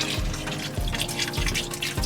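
A tap runs steadily into a sink while dishes are washed inside a camper van, giving a continuous hiss of splashing water with small irregular splashes and clatters, close by and with no talk.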